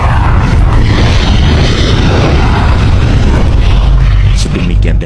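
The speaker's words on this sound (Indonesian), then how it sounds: "Tiba-tiba terdengar suara dentuman." A deep, heavy rumble fills the whole stretch, loud and continuous like a distant explosion's drawn-out roar, with no talking.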